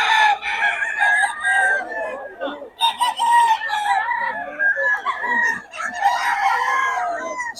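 A young gamecock stag crows and clucks up close, several loud ringing crows broken by shorter clucks, with faint background voices.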